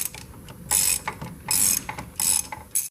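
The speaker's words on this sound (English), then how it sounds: "with a long 3/8 drive extension and a 15mm deep swivel socket, you'll be able to get on that nut and take that off" A 3/8 drive ratchet on a long extension with a 15mm deep swivel socket clicks in several quick bursts while loosening a suspension nut on a Range Rover or Land Rover LR3, close and crisp with no talking.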